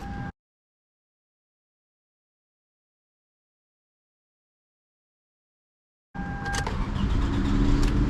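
A car collected from a salvage auction turns over and fires up after a long silence, settling into a steady, close engine idle that grows slightly louder.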